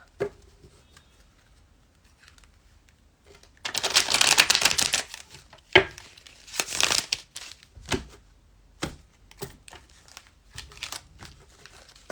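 Tarot cards are shuffled in short bursts, crisp riffling and papery crinkling close up, with a longer run of shuffling followed by scattered taps and flicks amid quiet pauses.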